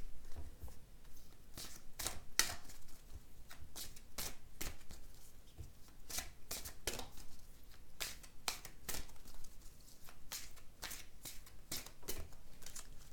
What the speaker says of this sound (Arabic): خليني برضو اخد لكم كروت الملايكه